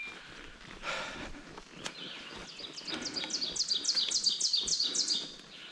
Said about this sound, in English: These birds are loud today.